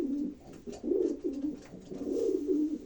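Pigeons coo in a loft where breeding pairs are settling to lay eggs, with several overlapping rolling coos in low, steady bursts, close and continuous.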